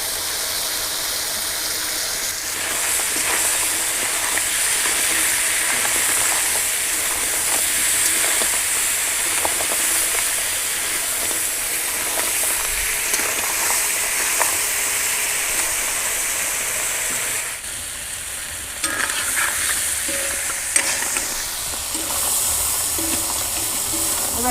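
Clams and fish fry in a pan over an outdoor wood fire in the Sundarbans, a steady loud sizzle and hiss running throughout, with a brief dip and crackle partway through.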